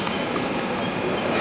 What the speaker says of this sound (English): here's a train for Woolwich